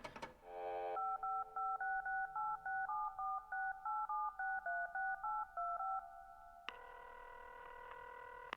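Touch-tone keypad beeps from a payphone on a ship in the video game Serious Sam, a quick rhythmic run of clear dialing tones followed by a steady ringing tone, no voices.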